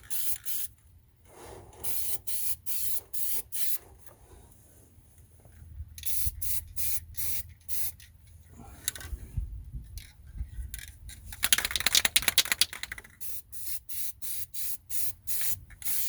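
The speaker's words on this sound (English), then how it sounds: "it'll spray really good for a second and then it wants to stop spraying." Repeated short bursts from a half-empty spray paint can that keeps cutting out, hissing loudly then stopping, with brief quiet gaps and a longer sustained spray near the end.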